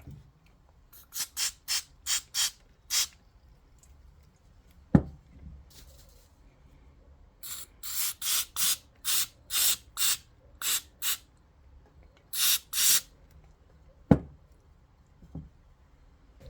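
Short hissing blasts of spray cleaner driving debris out of a strimmer carburettor, a rapid series of close bursts in two clusters, with a couple of sharp knocks in the quieter gaps.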